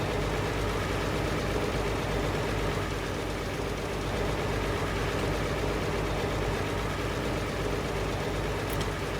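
A tractor engine drones steadily in Farming Simulator 22, a constant low rumbling idle with a dense, even hum, loud and unbroken throughout.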